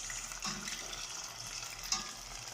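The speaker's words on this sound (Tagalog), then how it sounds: "This is the final fried lumpia" Lumpia frying in hot oil, a steady sizzle with faint stirring or utensil sounds, fairly quiet and continuous, with no talking.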